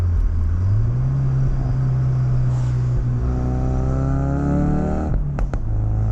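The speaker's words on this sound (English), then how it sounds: "If I downshift, you'll get a nice pop." A Ford Focus RS MK3 turbocharged four-cylinder holds a loud, steady engine drone, then drops sharply on a downshift followed by a couple of quick, crisp exhaust pops near the end.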